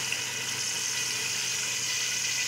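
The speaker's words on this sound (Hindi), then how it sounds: "अब इसमें जो बचा हुआ पानी था, जो हमने बचाया था उबला हुआ, वो डाल दें" Leftover boiled water pours into a pan of frying gatte curry, making a steady hissing, watery rush that holds at a moderate level throughout with no talking.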